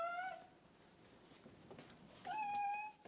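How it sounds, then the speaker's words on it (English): A cat gives two drawn-out, mournful meows, one at the start and another near the end, fairly faint with a quiet pause between them. "This is the saddest meows I've ever heard in my life."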